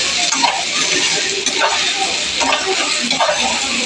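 Pointed gourds fry in hot oil with a steady, close, loud sizzle, and a spatula stirs them in soft scraping bursts throughout.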